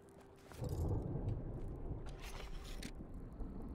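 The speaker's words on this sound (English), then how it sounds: "Hear a storm." Thunderstorm in the Smalland survival game: a low, rolling rumble of thunder swells early and lingers over steady rain-like hiss, fairly faint and with no voices.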